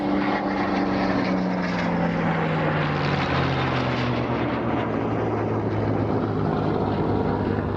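A Spitfire and a Eurofighter Typhoon fly together at a Scottish airshow, a loud continuous engine drone with a slowly falling pitch as they pass, steady roar with no voices.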